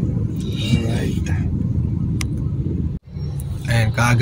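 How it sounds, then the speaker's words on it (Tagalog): Steady rumble of morning road traffic heard from inside a vehicle, with continuous engine and road noise under talking voices, dipping briefly before rising again. "Ayan, kaaga-aga ng traffic."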